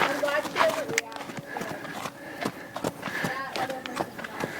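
A horse runs around outside, hooves clip-clopping and thudding in quick irregular beats at moderate distance, with people talking over the top.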